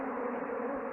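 Dense, steady buzzing of a mass of honeybees shaken off a hive frame during a spring inspection, a close, continuous drone filling the whole moment with no voices.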